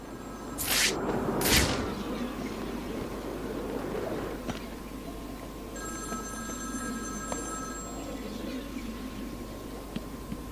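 A telephone rings twice in the Batman: Arkham City video game, two short bright bursts near the start over a low hiss, followed by faint electronic tones.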